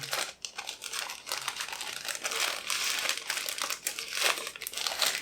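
Dense, continuous crinkling of a plastic bag holding cables being handled and opened, close up, steady for several seconds with no talking.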